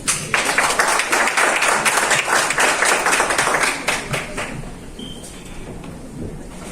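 A crowd at an ecosocialism discussion event claps loudly and thickly in a sustained burst, which thins and tapers away after a few seconds into quiet room tone.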